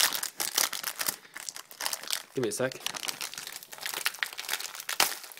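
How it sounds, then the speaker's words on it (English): Plastic wrapping on a pack of Candy Cane Peeps marshmallow candies is crinkled and torn open by hand, a steady crackling rustle running throughout, with a person speaking briefly midway. "Sometimes you just gotta tear it open."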